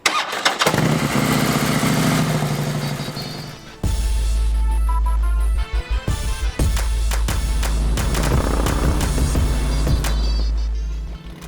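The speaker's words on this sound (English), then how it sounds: "So I actually asked him to just drive the bike and I followed him" Custom Harley motorcycle engine cranks and catches, then runs loud and close with throttle blips and rumbling revs as the bike pulls away, no talk.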